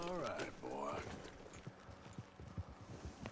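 Horse hooves clip-clop in a steady walking rhythm in the video game Red Dead Redemption II, close and clear, following a voice at the start.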